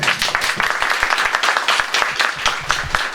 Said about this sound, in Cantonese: 值唔值得俾啲掌聲啊？